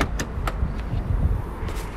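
The boot of a small Peugeot 108 hatchback being opened, a few close clicks and latch knocks followed by a soft muffled thud, with no talking.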